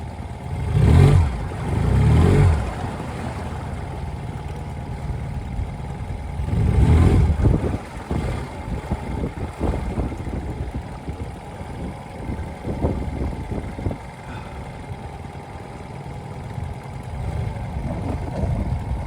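A small motor pushing a Newport Seascape 9' dinghy on the water whirs along steadily, with a few louder throttle surges early on and softer running after that.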